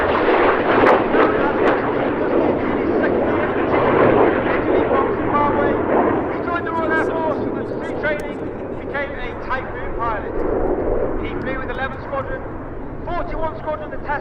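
Red Arrows jets fly an airshow display at RAF Cosford, a loud rolling jet roar sustained under a commentator's amplified voice over a public address system.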